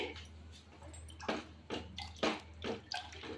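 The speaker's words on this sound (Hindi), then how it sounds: "इस पानी को हम भगोने में डाल दे रहे हैं, ये देखिए, और एक बार इसको अच्छे से मिक्स कर देंगे" Water is poured from a glass into a cooking pot for chicken biryani, heard as several splashing pours and sloshes in a quiet kitchen with a low steady hum beneath, no voices.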